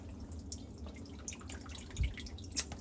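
Water drips from a leaking sink, soft scattered drops ticking at irregular intervals over a faint low hum, with one or two slightly louder plinks, quiet and close with no voices.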